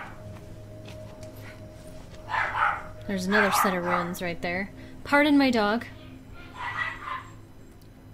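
A pet dog in a house barks and yips in short, loud bursts as doors open, heard alongside someone talking over the sound of a video game.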